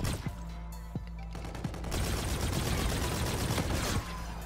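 Rapid light-machine-gun fire in Call of Duty: Infinite Warfare, dense sustained bursts filling the middle stretch after a few isolated shots, loud and close with game noise underneath.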